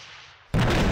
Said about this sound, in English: Let's try this rocket launcher out, just to test,